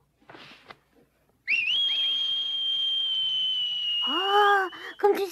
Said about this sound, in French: Oh, comme tu sais bien siffler.